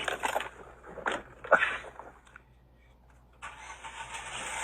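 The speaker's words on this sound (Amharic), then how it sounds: "ትንሽ ሞተር እናሞቃለን።" A car engine starts up and runs at a low idle, with a sharp burst of cranking and revving near the start, a brief lull in the middle, then a steady hum resuming.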